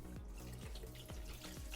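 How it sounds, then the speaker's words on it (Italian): Cold sparkling water is poured over chicken livers in a kitchen, heard as a faint, steady running trickle with soft repeated drips and splashes, and no voices. "Mettiamo questo a lavare e copriamo i fegatini con acqua gassata fredda."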